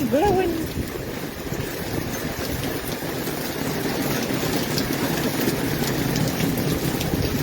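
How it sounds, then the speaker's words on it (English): Heavy rain and gusting wind from a June thunderstorm roar steadily and loudly outdoors, a dense continuous wash of noise with no talking. "Man, that rain though."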